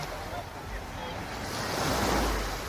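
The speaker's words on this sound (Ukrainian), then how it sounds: "А зараз просто насолодіться вечірнім Чорним морем." Evening surf on the Black Sea washes in as a steady wash of breaking waves, with low wind rumble that swells slightly toward the end.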